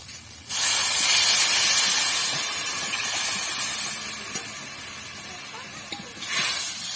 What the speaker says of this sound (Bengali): এবার আমরা অল্প পরিমাণে এখানে জল দিয়ে দেবো।